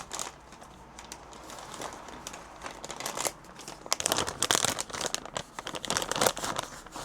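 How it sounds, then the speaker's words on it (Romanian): A makeup remover wipe pulled from its soft plastic packet gives close, crinkly rustling that builds into louder bursts of crackling and tearing-like handling. "haideți că iau un șervețel din acesta demachiant"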